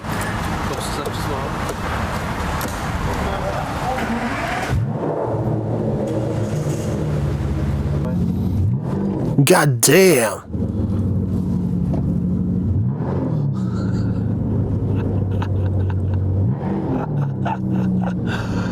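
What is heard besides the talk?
Aston Martin DBS car engine running and revving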